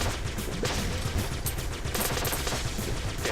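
Rapid gunfire from the video game Flinthook as fish enemies are shot, a dense, steady barrage of loud blaster shots running throughout without pause.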